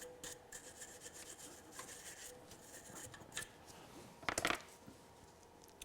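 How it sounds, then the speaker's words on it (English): Brass brush scrubbing a transmission rod bushing on a classic Mercedes R107 SL, a faint, quick, rhythmic rubbing with one brief louder scratchy burst near the end. "I'll take a brass brush and just clean this up a little bit"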